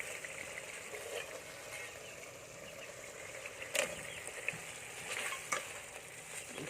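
Spicy coconut-milk curry with catfish and noni leaves bubbles over a wood fire, a constant close simmering hiss broken by a few sharp knocks and clatters.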